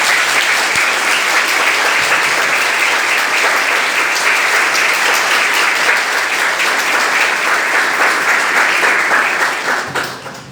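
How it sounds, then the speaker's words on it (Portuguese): Loud, sustained clapping from a gathered congregation at a funeral service for a church sister, steady and dense for about ten seconds before tapering off at the end. "dê uma salva de palmas a ele"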